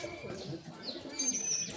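Endurance flying pigeons kept at a home loft give soft, low coos close by, with faint higher chirps above them in a short burst.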